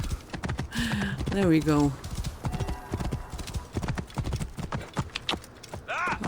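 Hooves clip-clop in a steady, quick rhythm as a horse trots through the video game Assassin's Creed: Origins, close and continuous, with someone talking over the hoofbeats and a brief whinny.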